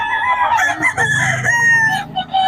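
A fighting-cock rooster from a prized bloodline crows loudly and close by, a long drawn-out call, with hens clucking and faint talk in the background.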